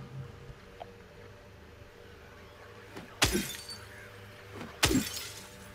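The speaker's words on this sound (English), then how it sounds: "I got an award for breaking glass." Glass shatters twice in the Silent Hill 2 Remake video game, each a loud sudden crash with a short tinkling tail, the pair about a second and a half apart over quiet background ambience.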